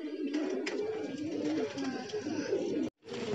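Pigeons cooing steadily and close by across the whole clip, a continuous low murmur of several birds with a brief dropout near the end.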